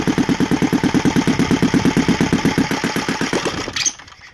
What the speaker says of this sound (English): it takes a couple of seconds to come down to the idle